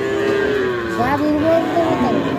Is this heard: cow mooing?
yes